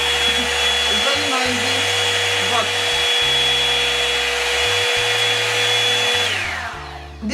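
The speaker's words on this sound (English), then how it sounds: "This is the medium, and if you put it high, see, the high is very noisy." Revlon One Step hair dryer blowing on high, a loud, close, constant whooshing whine that holds steady, then winds down near the end as it is switched off.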